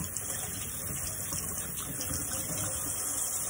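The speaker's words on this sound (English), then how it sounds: "going to start by turning on the warm water" Warm water running steadily from a sink tap for hand washing, a continuous soft hiss and splash at low level, uninterrupted and without speech.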